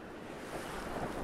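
High ocean waves at a beach, a close, rushing wash of surf with wind buffeting, swelling slightly partway through, with no voices.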